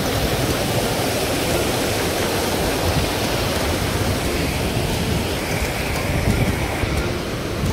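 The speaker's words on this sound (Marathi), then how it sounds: "हा लिंगमाळाच वॉटरफॉल आहे." Lingmala waterfall pours at full pressure, a dense, continuous roar of rushing water that stays loud and even throughout with nothing else standing out.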